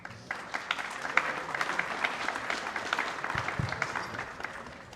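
A conference audience gives a round of applause to welcome the next speaker from Meta at a monitoring conference, steady dense clapping from a moderate distance with a few sharper claps standing out.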